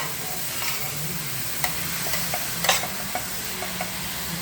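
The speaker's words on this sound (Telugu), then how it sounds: "బీట్రూట్ ఫ్రై అంతా తురుముకున్నది ఇలా వేసుకొని ఫ్రై చేసుకోవాలి." Grated beetroot frying in a pan with tempering, a steady sizzle running throughout while a spoon stirs it, scraping and clicking against the pan now and then at close range.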